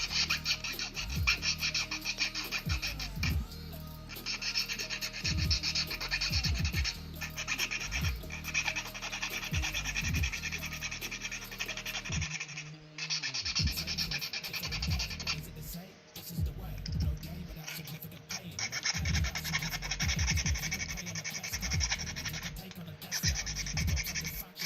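Steady rasping strokes of a flat file cleaning up a 3D-printed AT-ST drop pod model, close and continuous with a brief pause midway, repeated back-and-forth scraping throughout.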